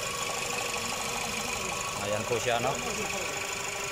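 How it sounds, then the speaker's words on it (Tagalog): A Toyota Camry engine, just restarted after a main fuse repair, runs at a steady idle with a constant low hum and faint rhythmic ticking, while someone speaks briefly over it. "umandar na po yung ating makina dito sa ating Toyota Camry"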